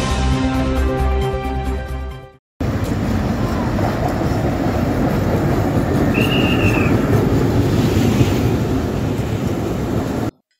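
The Chandana commuter train rumbles and clatters loudly at Faridpur station, a steady close roar of wheels and carriages with a brief high squeal partway through, after a short burst of music at the start.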